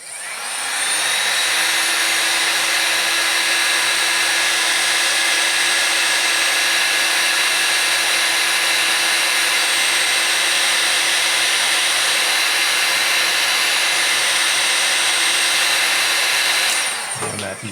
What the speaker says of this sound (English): I'll use the heat gun. Grab that real quick. Give that a blast.